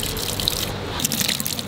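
Water poured into a spice masala while mixing, for quail fry cooked on a rocket stove, a close, short trickling and splashing pour with small drips, no talk.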